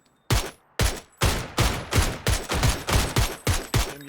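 Gunfire from a hut in PUBG: a loud burst of about eight sharp shots, the first few spaced apart, then quickening into a rapid, regular volley.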